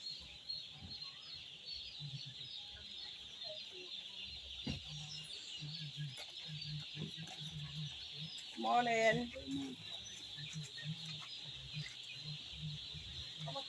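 Broiler chickens on a poultry farm cluck and chirp in a faint, steady background chorus, with a brief louder burst of calls midway and a person speaking briefly over them.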